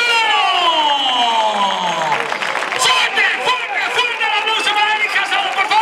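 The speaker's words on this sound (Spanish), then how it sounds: "Mira cómo se anima el público él solo" Crowd at an outdoor recortes bullfighting contest in Aldeadávila, cheering and shouting steadily and loudly throughout, with a rising whistle-like tone early on and a busy wash of many voices.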